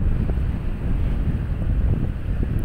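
Beach surf in the Philippines with fairly large waves, a steady loud roar of water mixed with heavy wind buffeting the microphone throughout.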